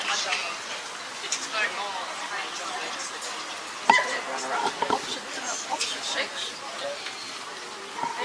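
A Dalmatian baby puppy at a dog show, giving small yips and whimpers amid busy crowd and ringside chatter, with a voice talking over the general bustle.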